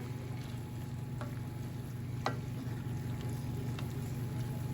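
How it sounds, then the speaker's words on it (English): Steak chunks and their plate juices stirred into rigatoni in a pan, giving a steady low sizzle and bubbling with a few soft scraping stirs, close and continuous with no talking. "We're gonna add that steak and all the juices on that plate. We're gonna stir it in."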